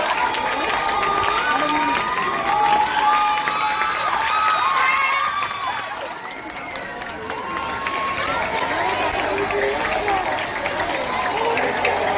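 At a Centre de Formation Moderne anniversary ceremony, a crowd applauds and cheers as a woman is called forward. Sustained clapping runs throughout with high, wavering shouts and voices rising above it, dipping briefly midway.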